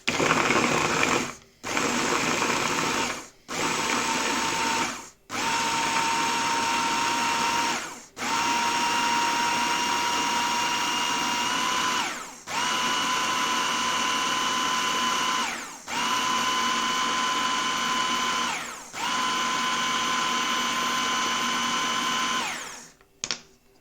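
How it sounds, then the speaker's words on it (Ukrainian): An electric blender whirs loudly in about nine short bursts, each a few seconds long, separated by brief pauses. "Накидаємо блендер."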